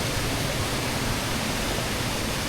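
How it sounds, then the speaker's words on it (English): High Force waterfall roars with a constant, dense rush of water, a steady broad wash of noise with no break or change, heard alone without voices. "That's High Force Waterfall."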